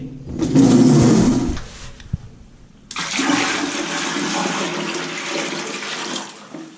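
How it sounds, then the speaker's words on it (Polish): A bucket of water is poured down a toilet, giving a loud rushing gush that drains off, a brief clunk, then a second long roaring flush of water through the bowl and pipe. "dobrze przepłukać całym wiadrem wody i poleci"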